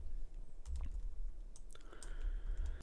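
Computer keyboard keys pressed while working in FL Studio, a few soft clicks and taps close by over a low background hum.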